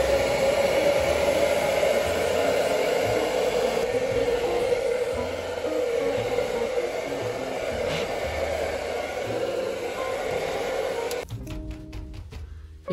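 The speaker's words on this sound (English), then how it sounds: "we now have the hairdryer, so it's time to finish one project." A hair dryer runs steadily indoors while plant chores are done in winter, a constant close whooshing hum lasting about eleven seconds before cutting off, followed by a few brief clicks and rustles.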